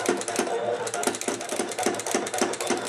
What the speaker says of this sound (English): Now this machine makes some funny noises. It is kind of loud when it cuts and prints